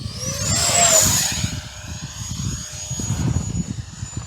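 E-flite Viper 64mm electric ducted-fan RC jet flying overhead, a loud rising whine that sweeps past early on with a Doppler drop, then settles into a steady distant high-pitched drone with wind noise.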